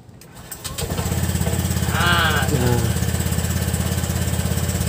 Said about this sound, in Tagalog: Testing motor, mga karibil.